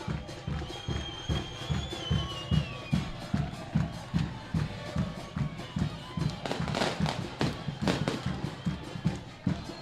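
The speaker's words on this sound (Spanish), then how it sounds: "El humo verde, los petardos." Firecrackers crackle in repeated sharp bursts at an amateur regional football final between Defensores de Vilelas and Guaraní AF, a dense run of pops over a murmuring stadium crowd, growing busier toward the end.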